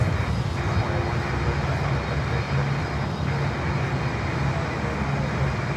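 American Airlines Airbus A319 airliner arriving at Miami airport runway, a steady loud roar of jet engine noise filling the whole clip with constant broadband rumble, faint voices in the background.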